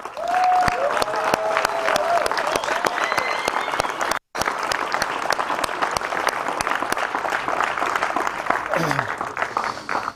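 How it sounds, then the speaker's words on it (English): Sustained loud applause from a crowd of families at a high school football college signing ceremony in San Angelo, Texas, steady for about ten seconds with a brief break and cheering voices mixed in. "let's let them sign and give them a round of applause"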